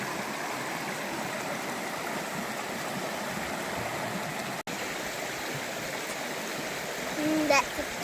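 A New Zealand backcountry stream beside a hut flows in a constant, close rushing wash, with a brief bit of talk near the end.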